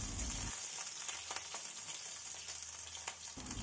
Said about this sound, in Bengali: বেগুনটাও হালকা লালচে করে ভেজে নেব।